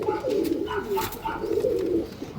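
A tournament-flown female pigeon coos in soft, repeated low throaty rolls, close and steady over a faint background murmur, with no talking.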